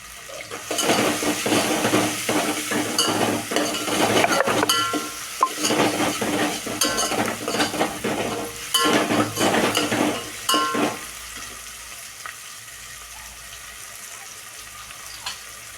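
Cinnamon, cloves and cumin fry in a pot for biryani, a busy mix of sizzling and clattering stirring against the metal that runs strongly for about ten seconds, then drops to a faint quiet hiss.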